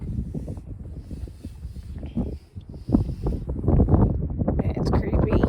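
Strong gusts buffet the microphone on an exposed, high trail in the Smoky Mountains, making a rumbling, fluctuating roar while a person's voice is heard underneath.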